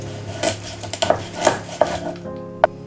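Knife chopping through the snout of a pollack on a cutting board, a handful of sharp, irregular knocks and clacks with short scraping in between, close and clear.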